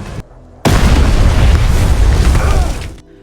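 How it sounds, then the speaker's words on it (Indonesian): A sudden loud explosion bursts in after a brief quiet, its heavy roaring rumble sustained for over two seconds before cutting off. "hingga dengan cepat James meledakkan bom tersebut"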